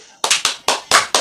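Hands clap five times close by in an uneven rhythm, each a sharp loud slap with a short tail.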